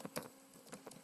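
Typing on a computer keyboard into a browser search bar, a handful of quiet, uneven key clicks spread over about a second.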